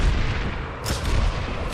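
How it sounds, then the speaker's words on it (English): A Pounder grenade launcher fires in the video game Planetside 2, a heavy muffled boom standing out briefly over loud continuous game noise. "or the pounder grenade launchers"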